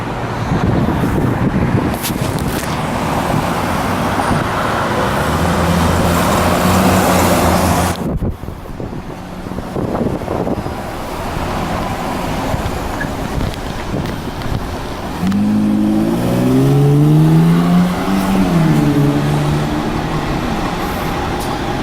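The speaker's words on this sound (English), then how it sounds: "And here's a Q6 bus." Q6 city bus passing on a Queens street, a rising and falling engine roar with a brief gear-whine sweep, heard outdoors amid wind buffeting on the microphone and other traffic.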